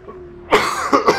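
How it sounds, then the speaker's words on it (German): A single close, loud cough bursting out after a quiet, faintly hummed moment, followed by a short second cough-like burst. "Ich muss husten."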